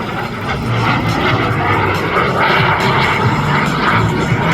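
A microjet aircraft engine roars steadily and loudly throughout, a continuous broadband whine and rumble with no breaks.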